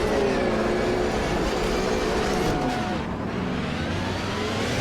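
Porsche 911 GT3 R race car engine roaring at the race start in the Automobilista 2 sim at the Nürburgring Nordschleife; a loud, dense, continuous engine and pack noise with no breaks.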